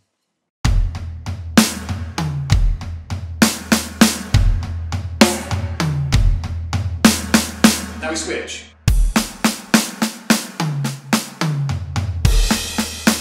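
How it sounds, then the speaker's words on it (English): Drum kit played up close in a 16th-note triplet groove with bass drum and cymbal accents, rolling into a busy fill and back, with a brief spoken remark partway through. "both drum beat and drum fill use exactly the same patterns with the bass drum on the very first note"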